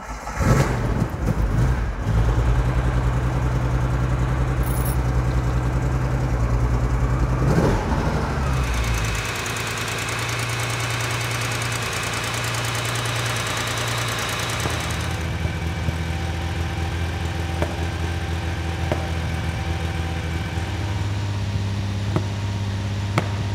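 A classic Ferrari Daytona V12 engine cranks and catches, then settles into a steady, loud idle with a rough, uneven rumble and occasional blips, with no talking.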